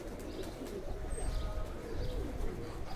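A pigeon held in the hand, a Ferozpuri–Faqeer Gull mixed-breed loft bird, gives soft tak-tak clicks and low coos close by over a steady background hiss, with no talking.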